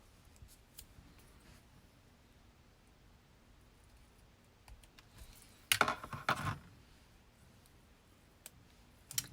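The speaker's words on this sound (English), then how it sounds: "So I'm just going to trim my edges so that they're even with my designer series paper." Scissors trimming designer series paper edges at a craft table, sparse soft snips and clicks with one louder burst of cutting midway, otherwise quiet room.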